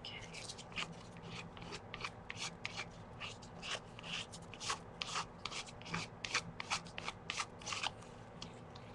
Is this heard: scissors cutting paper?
yes